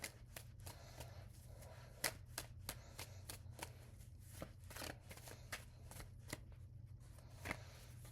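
Tarot cards being shuffled by hand, a quiet run of crisp riffling snaps and flicks at an uneven rhythm, close and alone with no talking.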